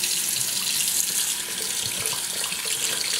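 A sponge is soaked under a running kitchen tap, with water hissing and splashing steadily and small gurgles as the flow shifts.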